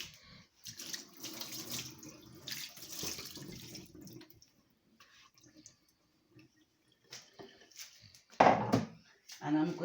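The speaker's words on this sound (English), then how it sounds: "Give my cutting board a wash." Tap water runs over a cutting board being washed at a kitchen sink, a splashing flow under a person speaking, then a few brief louder gushes and splashes near the end.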